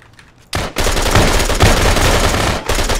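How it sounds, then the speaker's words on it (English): Rapid automatic gunfire in ARMA 3 punched through walls beside a stairwell, starting abruptly and holding as a dense, loud burst for about two seconds before cutting off, then resuming briefly. "He's wall banging the stairs."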